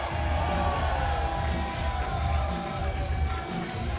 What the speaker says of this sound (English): Chris Barton and Nino Cruz getting the crowd fired up here at the Longboat Hall